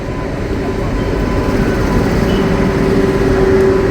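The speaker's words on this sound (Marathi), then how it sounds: "तर हा का रेल्वे पण आले." A loud, steady rumble of a train rolling into a railway station nearby on the Jeur–Pune route, with a low droning hum and a rising tonal whine toward the end.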